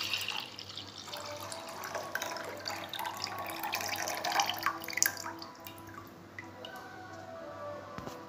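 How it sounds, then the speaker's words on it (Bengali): Cow's milk being poured into a container for homemade yogurt, a soft continuous trickle with small drips and splashes, close and quiet. "আমি এখন দুধটা ঢেলে দিব"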